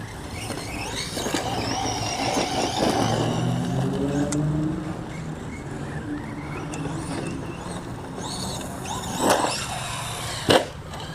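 A Traxxas Stampede 4x4 VXL 1/10 scale RC monster truck runs outdoors, its electric motor whining steadily and rising and falling with throttle, with a couple of sharp knocks near the end, and no talk.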